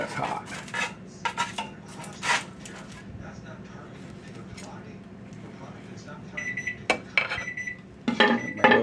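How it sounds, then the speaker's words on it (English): A kitchen timer goes off while acorn squash bakes, a bright repeating electronic beep heard near the end after clattering dishes and cutlery, with a voice speaking over parts. "There goes my timer."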